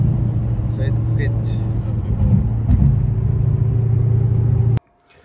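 A Mercedes C63 AMG, flagged with an engine warning light, drones loudly and steadily on a race circuit, with a slight surge midway before the sound cuts off abruptly near the end.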